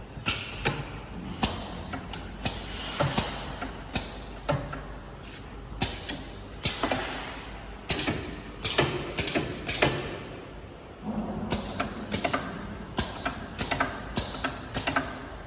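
A KEFAI desktop bottle capping machine caps a bottle, giving repeated sharp mechanical clicks and clacks in an uneven rhythm, close and fairly loud, with a brief quieter gap partway through and no talking.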